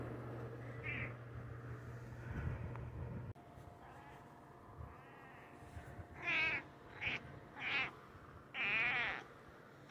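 A cat meows several times in the second half, four or five clear, close, rising-and-falling calls separated by short pauses over a quiet room.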